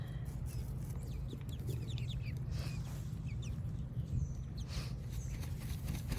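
Cream legbar and leghorn gold laced Wyandotte cross chickens cluck softly in a flock, with scattered short calls over a steady low background hum.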